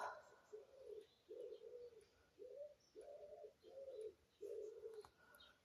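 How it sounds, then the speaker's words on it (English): Pigeons cooing in a steady series of about seven soft, rounded calls, moderately close, with no talk over them. "My pink punk pigeon friends has a lot to say."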